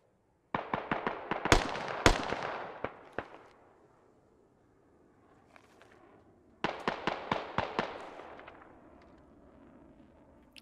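Bursts of automatic rifle fire from US soldiers in a military video game, two rapid volleys of sharp cracks separated by a quieter pause with faint distant shots.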